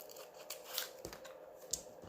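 Scissors cutting off an uneven pair of paper pages for a micro mini journal made from sticker boxes, a few quiet crisp snips and rustles close by.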